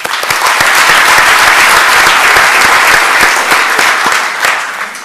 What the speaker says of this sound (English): You should give yourself a big round of applause.